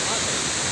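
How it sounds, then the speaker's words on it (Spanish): Steady, roaring rush of Chorrillos waterfall in Zamora, Ecuador, a dense, continuous wash of falling water heard close and loud throughout. "esta es la maravilla de Cascada Chorrillos"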